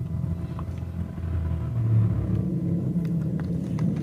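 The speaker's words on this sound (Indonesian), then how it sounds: "Ini bisa didengerin RPM nya, suara mesinnya." A motorcycle engine fitted with a cheap aftermarket CDI unit idles and runs steadily, a low continuous rumble with slight rises in revs and faint background clicks.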